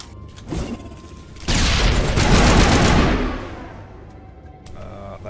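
A short, loud burst of gunfire in the Mass Effect video game, a dense volley lasting about two seconds before fading into echo, preceded by a faint earlier shot.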